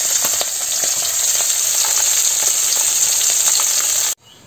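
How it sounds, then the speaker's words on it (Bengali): Native koi fish fry in hot oil in a pan, a loud, continuous sizzle with crackles and pops that cuts off abruptly near the end. "এই যে মাছ ভাজা হয়ে গেছে"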